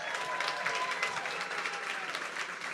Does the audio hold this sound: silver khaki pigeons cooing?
no